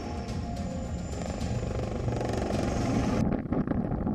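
An LCH Light Combat Helicopter flies in a winter setting, its rotor and engine making a loud, steady, close-up thrum that cuts off sharply near the end.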